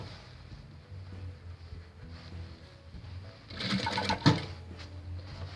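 A sewing machine stitches the edge of a bubble puff quilt, running a seam 0.7–1 cm from the edge while pressing down the stuffing; a steady low motor hum swells into a louder, busier burst near the end.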